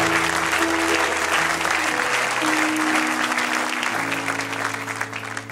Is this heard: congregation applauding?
yes